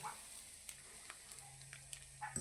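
Smoking-hot oil poured over chakli flour gives a faint, quiet sizzle with scattered small crackles and ticks, soft and close.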